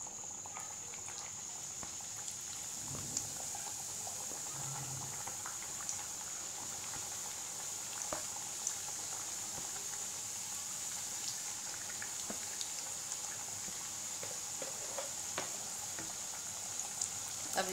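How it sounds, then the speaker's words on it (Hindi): Nimki (mathri) dough fries in hot oil over a medium-low flame, a steady close sizzle and fine bubbling that continues evenly throughout. "अब इसे मीडियम टू लो फ्लेम पर तल लेंगे ताकि ये क्रिस्पी बने।"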